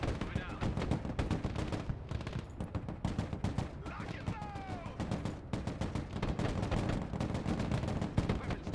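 Rapid automatic gunfire and combat explosions from the modern military strategy game Broken Arrow, dense and continuous bursts with loud cracks throughout.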